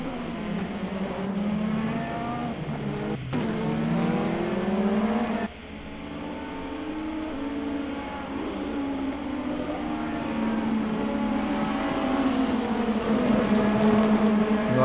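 Fast race cars roar in a sim racing game, a steady high-pitched engine whine that shifts pitch as the cars change gear and accelerate. The sound is continuous and loud with no voices.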